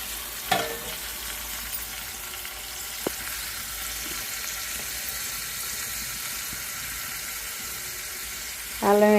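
Raw cleaned prawns sizzle as they fry in onion-tomato masala for a prawn egg curry, with a steady close hiss, occasional stirring clinks and a brief louder scrape at the end.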